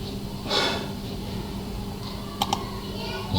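Short typing on a computer keyboard entering a command on Windows, with two quick clicks standing out over a steady background hum and a soft breathy noise early on, close by and without talk.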